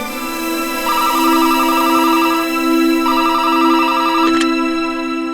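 A telephone rings in two long electronic trilling bursts over a steady hum, close and loud, with a brief click near the end and no speech.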